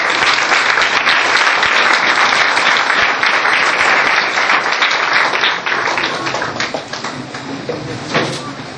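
A church congregation stands and applauds loudly, a dense, sustained roar of clapping that fills the room and gradually tapers toward the end, with a few voices mixed in.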